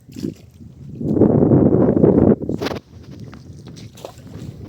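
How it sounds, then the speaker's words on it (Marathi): Strong sea wind gusts buffet the microphone in a loud, rushing roar that swells, then drops away to a lower breezy rumble while rod fishing at sea from a boat. "वारे एकदम समुद्री वारे आहेत"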